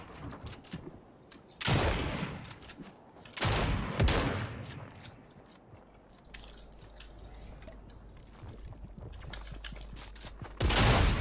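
Striker pump shotgun blasts in Fortnite, three loud broadband bursts spaced a couple of seconds apart, with a final burst at the end, over scattered game noise and clatter.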